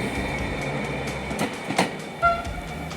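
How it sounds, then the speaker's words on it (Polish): A passing train rolls along the rails near Węgierska Górka in Poland at dawn, a steady mid-level rumble with a faint wheel squeal, heard alone without voices. "Pociąg jedzie dalej do Swardonia"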